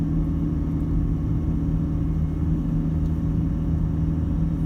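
Vehicle cruising along a beach near No. 2 Rocks, a steady low engine rumble and road drone heard from inside, continuous and even with no talk.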